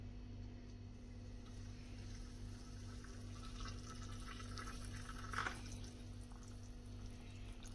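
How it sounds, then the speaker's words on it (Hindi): Hot water being poured into a container during home cooking, a steady faint pouring wash over a constant low hum. "तो अब इसमें डालेंगे पानी, ये वाला पानी गर्म हो चुका है।"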